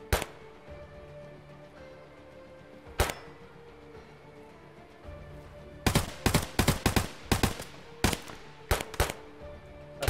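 Sharp gunshots from Escape from Tarkov crack out, a lone shot early followed by a rapid flurry of bursts, over a low background hum.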